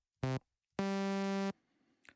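Initialized sound program on a Korg Gadget Memphis MS-20 style monophonic synth: a short buzzy tone, then a longer sustained one at steady pitch, both harmonically rich and clean with abrupt starts and stops, alone and close.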